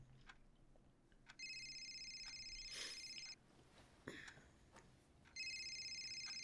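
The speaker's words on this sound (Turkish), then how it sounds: "Telefonu çalıyor." A mobile phone rings at night in a quiet room, two bursts of a steady electronic ringtone with a faint background hiss and a few small clicks between them.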